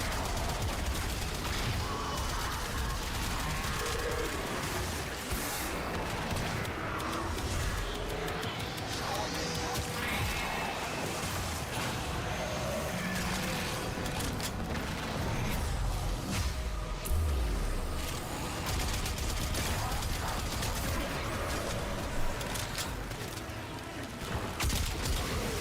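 Kuva weapons firing in Warframe, a dense, continuous barrage of rapid shots and booms that stays loud throughout, blended with game effects and some speech.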